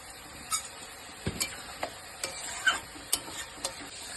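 Palak paneer simmers in a pan while a spoon stirs it. Soft, irregular scrapes and taps sit over a quiet, gentle bubbling, close and alone.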